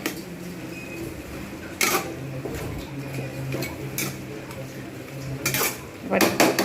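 Shrimp stirred with spices in a pan, a spoon scraping and clinking against metal in irregular bursts over a low background, with a few sharper knocks.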